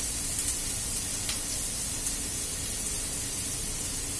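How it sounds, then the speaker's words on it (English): Onions browning in a hot pan, giving a steady, even sizzle and hiss that runs unbroken from start to finish with no talking. "I have drowned the onions and I am browning them."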